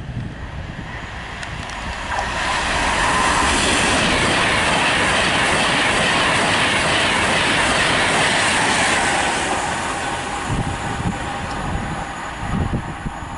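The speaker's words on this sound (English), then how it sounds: "passing through behind will be Virgin train service to London Euston from Liverpool South Parkway" A Virgin Pendolino bound for London Euston from Liverpool South Parkway passes through Nuneaton station on the West Coast Main Line, a loud, close roar building over a few seconds and holding with rail clatter before easing off.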